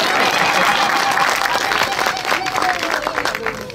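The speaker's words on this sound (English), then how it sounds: "Clap hand for me, don't be jealous." Audience applause at a workshop event in Eswatini, a dense, steady wash of clapping hands sustained throughout, fairly loud, with crowd noise underneath and fading slightly toward the end.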